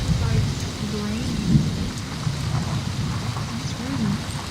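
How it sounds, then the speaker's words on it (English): Rain and thunder in the video game Season: A Letter To The Future: a steady wash of rainfall with low rolling thunder rumbling underneath, continuous and fairly close, with no voices. "It's raining."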